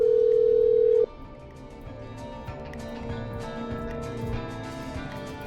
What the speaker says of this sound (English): I'm dialing. One moment.